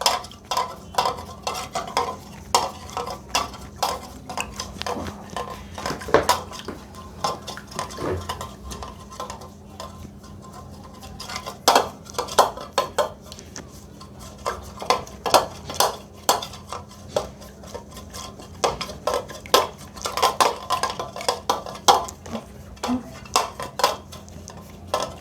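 Eggs are whisked by hand into foam in a bowl, giving a long run of rapid, irregular clinking and tapping strokes against the bowl, with brief pauses between bursts.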